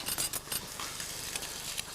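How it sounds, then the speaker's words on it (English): Steaks frying in a pan give a steady close sizzle and crackle with small scattered pops, continuing without pause and with no talking. "That's what we're waiting for our steaks to cook."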